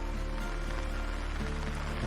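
Morning rain on a farm, a steady dense patter with a constant low rumble and no talking.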